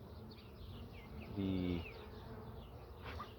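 Worker honey bees swarm around hive frames in a dense, continuous buzz, with individual bees droning past close by and a brief louder tonal whine in the middle; a faint voice is briefly present.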